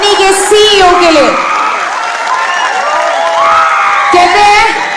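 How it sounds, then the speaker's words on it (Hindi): A large company audience at a sales promotion event applauds loudly for its CEO and MD, with cheering, whoops and raised voices mixed into the steady clapping throughout. "मैं चाहूंगी कि एक बार दोनों हाथ ऊपर करके जोरदार तालियां हो जाए ऐसे व्यक्ति के लिए"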